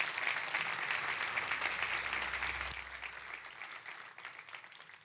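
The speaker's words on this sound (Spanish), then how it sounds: "Denle un fuerte aplauso a Dios por eso." Church congregation applauding during a sermon, a broad wash of many hands clapping that holds steady, then thins and fades out over the last couple of seconds, with a brief low thump in the middle.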